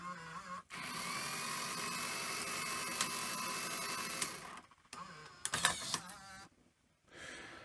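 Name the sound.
Sony EV-S700 Video8 machine ejecting cassette mechanism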